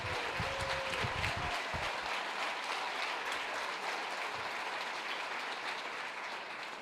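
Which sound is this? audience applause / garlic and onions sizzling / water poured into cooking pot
audience applause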